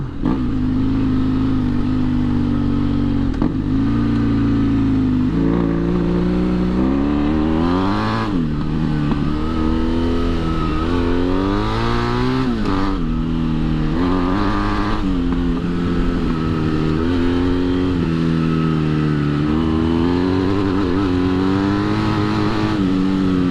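A BMW F800GS motorcycle on knobby tires, its engine droning loud and close throughout, rising and falling through repeated revs and gear changes, no voices.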